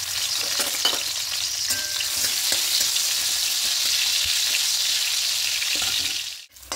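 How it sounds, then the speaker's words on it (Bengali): Round slices of bitter gourd fry in hot oil in a pan, giving a loud, steady hiss and crackle with faint stirring scrapes, no voices, ending in a sudden brief drop. "এবার এই তেলের মধ্যে করলাগুলোকে একটু লাল লাল করে ভেজে নেব।"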